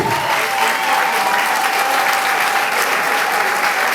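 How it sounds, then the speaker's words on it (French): Loud, continuous clapping from a large audience at a Gabonese community celebration of a new government appointment, a thick, even wash of applause with no break. "Applaudissez très fort, mesdames et messieurs."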